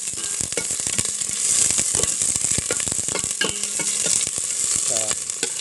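Onion frying in a pan for a coconut-milk blue crab dish, a loud continuous sizzle with repeated scraping and stirring clatter over about five seconds, no talk.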